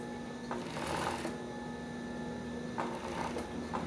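A sewing machine runs a seam down the centre of a swimsuit, with a faint, steady mechanical hum and a few brief bursts of stitching on top.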